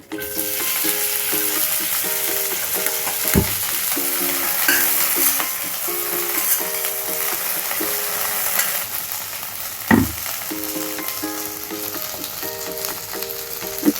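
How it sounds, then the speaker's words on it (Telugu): Sliced okra fries in hot oil in a pan, a loud continuous sizzle with occasional stirring scrapes and a sharp knock near the middle, close and without speech. "బెండకాయలు వేసి వేయించేసుకుందామండి."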